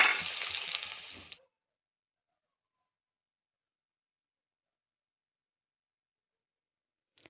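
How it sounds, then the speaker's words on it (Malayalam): Chopped onion goes into hot oil in a kadai-style pan, giving a loud, close sizzle for about a second and a half before the sound cuts to silence. "നമുക്കൊരു അടുപ്പത്തേക്കൊരു ഒരു ചീനച്ചട്ടി വെച്ച് കൊടുക്കാം അതിലേക്ക് ആവശ്യത്തിന് ഓയിൽ ചേർത്ത് കൊടുക്കാം ഇനി ഇതിലേക്ക് നേരത്തെ കട്ട് ചെയ്ത് മാറ്റി വെച്ച ഉള്ളി ചേർത്ത് കൊടുക്കാം"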